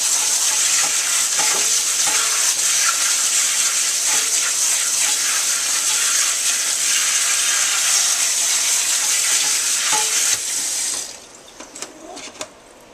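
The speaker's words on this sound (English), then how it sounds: "First thing you want to do is wash off your stevia." Fresh stevia leaves are washed under running water, a steady loud splashing and hiss that runs unbroken and then cuts off, leaving a few faint handling clicks at the end.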